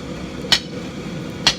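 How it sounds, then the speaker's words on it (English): Two sharp hammer blows, about a second apart, ring out as a hand hammer forges a two-sided point on a big, hot piece of steel stock for a Viking sword. "Forging out a two-sided point on a big piece of stock like this can take a little bit of doing"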